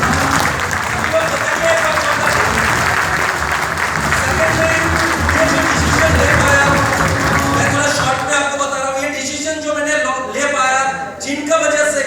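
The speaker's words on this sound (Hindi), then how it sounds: "उन लोग को एक जोरदार ताली तो होना चाहिए।" Loud, dense applause from a crowd at a company launch event in Tinsukia, Assam, fills most of the stretch, then fades as a voice begins speaking near the end.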